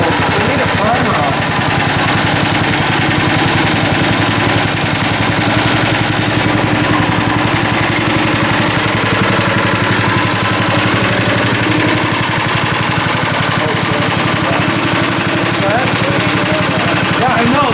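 A go-kart's small engine runs steadily after a one-pull start without choke, a loud, rough continuous chugging throughout, with voices talking over it.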